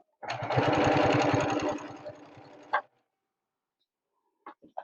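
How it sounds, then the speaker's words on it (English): A sewing machine chain-pieces flying geese quilt units in one close, loud, rapid, rhythmic stitching run of about two and a half seconds. It stops abruptly, and a few soft clicks follow after a pause. "I can just chain piece these right through the machine"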